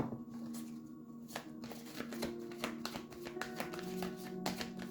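Tarot cards are shuffled by hand in a quiet room, producing a rapid run of soft riffling taps and flicks lasting several seconds, close and clear with no talking.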